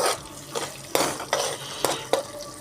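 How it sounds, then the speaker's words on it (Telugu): A spoon stirs snake gourd curry with curry leaves in a metal pot, making five or six close scraping strokes at an uneven rhythm with faint sizzling between them. "బాగా కలిసేలా ఇలా కలుపుకోవాలి"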